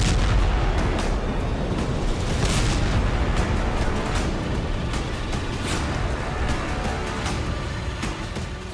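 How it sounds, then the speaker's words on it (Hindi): Continuous dense roar with repeated sharp booms and cracks, loud and close, like a barrage of blasts rumbling on for several seconds, as tanks explode at an oil depot after a drone attack. "ड्रोन हमले से तेल डिपो के टैंकर में विस्फोट।"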